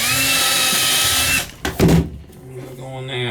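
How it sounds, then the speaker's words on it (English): A power drill bores a hole into solid wood during an old toilet replacement, whining loudly and steadily for about a second and a half before cutting off, followed by a few knocks and quieter handling noises. "Drill the hole in there,"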